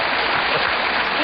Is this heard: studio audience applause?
yes